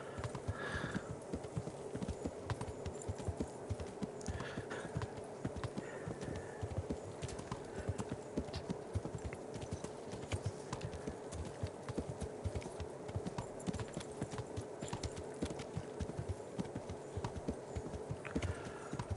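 Horse hooves clip-clop steadily in the medieval game Kingdom Come Deliverance, a continuous brisk trotting rhythm close by, with a faint whinny early on and no talk over it.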